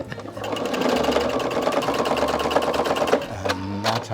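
A sewing machine stitches the sides of a handmade sofa, fast continuous needle chatter that is loud and close, ending with a few separate clicks as it stops.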